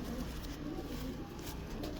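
Pigeons in a loft cooing softly, faint low murmuring coos under a steady background hiss.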